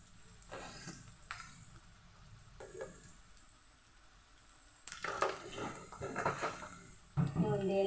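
Food sizzles and crackles steadily in a hot pan just after salt is added, with stirring scrapes and occasional utensil clatter that grow busier and louder toward the end.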